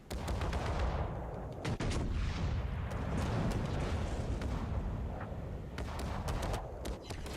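Naval guns of the destroyer Friesland firing in a warship battle game, a dense, continuous barrage of booming shots and rumbling blasts, loud and close, with no talking.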